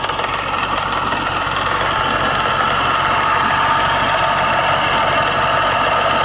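A Dodge Challenger SRT8 with a 6.1 HEMI V8 rated at 425 hp idles nearby, a loud, steady, unbroken rumble with no voices over it.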